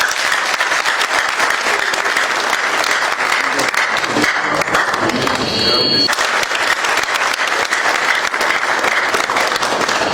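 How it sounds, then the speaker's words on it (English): A crowd at a Ghanaian event honouring the Asante Kotoko football club breaks into sustained, loud applause, with a short stretch where cheering and voices rise above the clapping. "Shall we clap in appreciation?"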